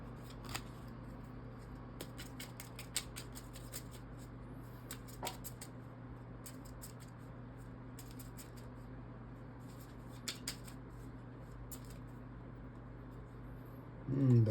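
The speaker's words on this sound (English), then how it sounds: "Let's pull some more cards out." Tarot cards being shuffled and drawn from a deck, soft quick riffles and flicks in brief bursts over a quiet room hum.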